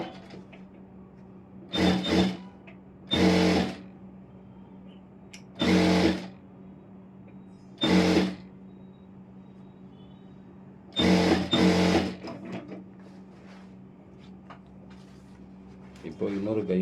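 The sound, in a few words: sewing machine stitching lining of Aari work blouse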